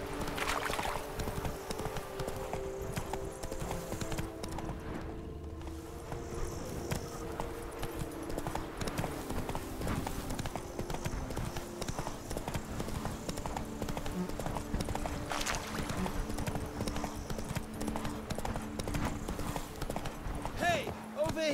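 Geralt's horse Roach clip-clops along in The Witcher 3, steady rhythmic hoofbeats over game music, while characters talk over the riding.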